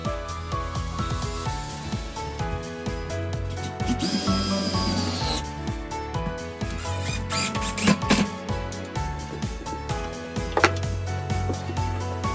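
A power drill drives screws into 2x4 lumber while a sofa frame is assembled, with whirring bursts and woody knocks heard over steady background music.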